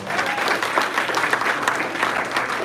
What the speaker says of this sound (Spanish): Dar un aplauso a la palabra de Dios.